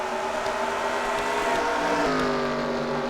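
Race cars in a racing video game on a Champs Elysees track, a loud continuous engine drone with several cars' tones overlapping and pitch shifting slightly as they race closely together.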